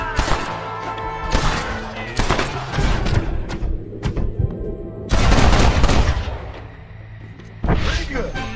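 Gunfire in the Red Dead Redemption Western video game: a dense, continuous barrage of close shots and thuds, with voices talking over the shooting.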